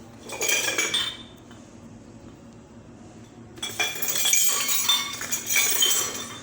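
Kitchen utensils and dishes being put away, with clattering bursts of metal cutlery and clinking pots and glassware, a loud flurry, a pause, then more rattling and chinking close by.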